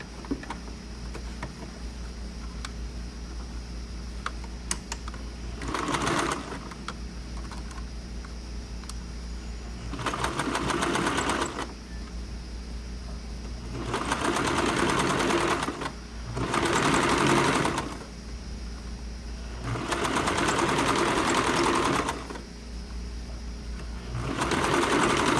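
A sewing machine stitches a shirt collar about two millimetres from its edge, running in several loud, steady bursts of a few seconds each, separated by pauses where only a low background hum remains.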